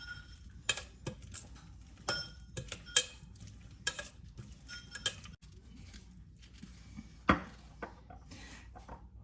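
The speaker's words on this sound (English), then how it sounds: "And kind of give everything a good stir." Peach crisp filling being stirred in a bowl with maple syrup to follow, a series of quiet irregular clicks and soft scrapes of a spoon against the bowl, no talking.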